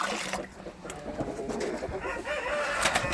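Pigeons coo softly in a low, repeated rhythm, mixed with faint bird calls and scattered rustling, with no talking.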